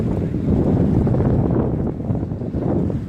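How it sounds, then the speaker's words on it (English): Steady buffeting wind noise roars across the microphone at Diablo Lake, a dense low rumble throughout with no clear voices. "I wonder how the audio is going to turn out. It being so windy and all."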